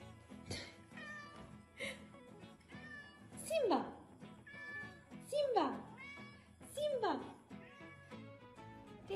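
A cat lets out several loud, drawn-out meows, three strong calls spaced a couple of seconds apart, while someone talks affectionately over and between them.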